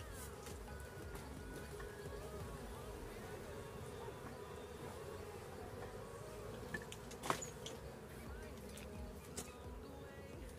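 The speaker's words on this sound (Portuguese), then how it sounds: "Abelha tem bastante abelha." Bees buzz around a cement-brick hive box, a steady, faint droning hum throughout with a few sharp knocks and clicks near the middle.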